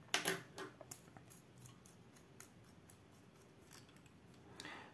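A Zebra 901 ballpoint pen's push button is clicked, a few sharp close clicks at the start followed by softer scattered ticks and a final click, with no talking.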